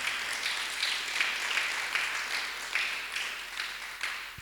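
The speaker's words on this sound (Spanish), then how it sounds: "Dele el aplauso al Señor." A church congregation applauds the Lord during a Spanish-language service, giving soft, sustained clapping from a fairly distant crowd with a few sharper claps standing out.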